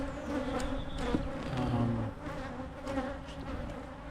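Honeybees swarm and buzz around an opened hive during an inspection, a dense, steady hum of many insects close by with brief individual whines passing near, no voices.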